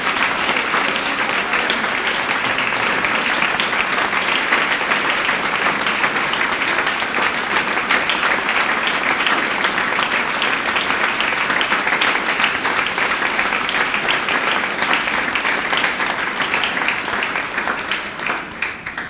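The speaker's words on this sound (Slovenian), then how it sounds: "Zato jaz mislim, da si zasluži aplavz in seveda en pušelc." Audience applause, sustained dense clapping from a large crowd that holds steady for nearly twenty seconds before easing off at the end.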